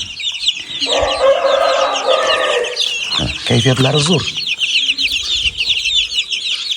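Chicks clucking in a farmyard, with a busy chorus of chirps and clucks throughout and a rooster-like crow partway through, while someone speaks briefly over them.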